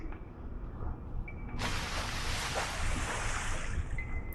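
A character in the Granny 2 video game drops into water, a sudden rushing splash-like wash of noise that cuts in and then holds as a steady watery roar over a low game ambience.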